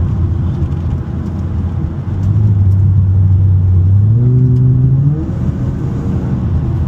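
An Infiniti FX with a newly fitted strut bar drives along, its engine rumbling close by and then rising in pitch as it accelerates midway before settling back down, with no talking.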